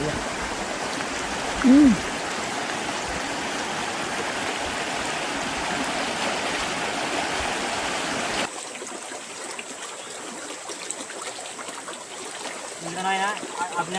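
Flowing stream water at a village fishing spot in rural Konkan, a steady broadband rush running throughout, with a brief louder splash near the start and a drop to a quieter, thinner trickle partway through.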